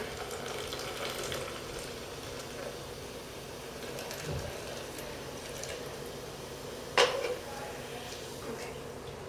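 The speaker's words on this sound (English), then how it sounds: "So now take this and pour it into this cup" Liquid poured steadily into a cup, with a soft, faint fizzing trickle throughout and a brief clink near the end, in a quiet room.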